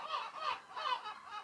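Seagulls at a sunny seaside calling in repeated harsh, nasal cries, about three bursts in a second and a half, moderately near against a soft background hiss.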